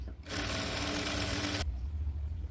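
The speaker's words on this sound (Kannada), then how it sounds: "1 ಇಂಚ್ಗೆ ಈ ರೀತಿ ಇಟ್ಕೊಂಡು ಸ್ಟಿಚ್ ಮಾಡ್ತೀವಿ" Sewing machine stitching a blouse seam, a single fast continuous whirring run of about a second and a half that starts and stops abruptly, close and fairly loud, no talking.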